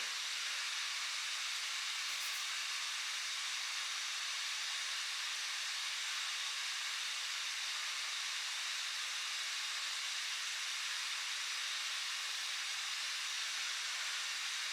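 A steady, even whoosh of Razer Blade 15 gaming laptop cooling fans under an ultra-settings load, averaging about 52.7 decibels, with strong high-pitched airy hiss, constant for the whole stretch with no talking.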